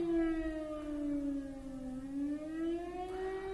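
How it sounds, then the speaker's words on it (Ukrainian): A civil defense air raid siren wails steadily from a distance in Ukraine, its tone slowly dipping and then rising again, faint but clear over quiet background noise. "Знову сирена."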